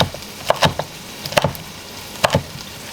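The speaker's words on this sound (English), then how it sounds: "Rough chopping of the bacon." Knife rough chopping bacon on a cutting board, several sharp irregular thuds in small clusters, close and fairly loud, with no talk.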